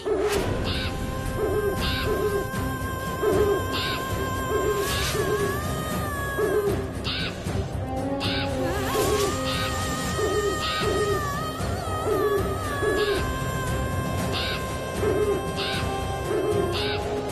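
An owl hoots repeatedly in a steady rhythm over a tense TV-drama music bed, with occasional swells and crashes in the score.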